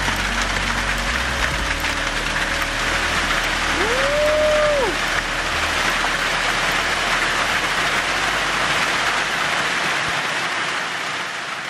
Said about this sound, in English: Now these are some serious hailstones.